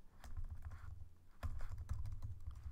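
Java code typed on a computer keyboard, a quick run of soft, close key clicks with one short pause partway through and no talking.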